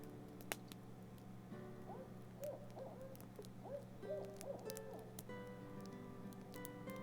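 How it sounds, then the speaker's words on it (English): Great horned owl hooting as a sound effect in the video game Kindling Spirits, a series of soft rhythmic hoots over a steady low ambient hum and faint music, quiet and distant. "That's a great horned owl, right?"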